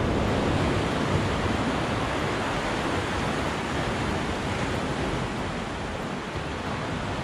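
Rough ocean waves surge and wash at a rocky fishing spot, a dense, continuous roar of surf with wind, steady throughout and without voices.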